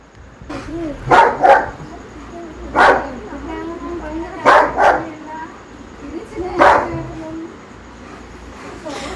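A dog barks in short bursts, about five or six barks spread across the clip, fairly close, with quieter background noise between them.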